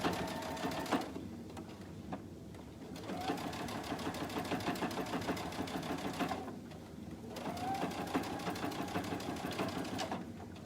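A home sewing machine stitches a pocket seam on a child's garment in steady, fast bursts of rapid mechanical whirring, pausing briefly twice before starting again, close and clear.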